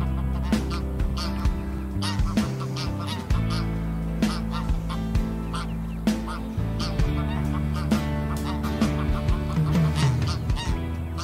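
Wild greylag geese honking: a dense, continuous chorus of loud nasal honks and cackles from many birds close by, overlapping steadily throughout.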